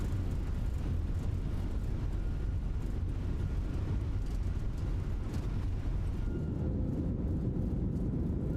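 Deep, steady roar of Airbus A321 thrust reversers just after touchdown in a flight simulator, a continuous broadband rush of engine noise that eases toward the end.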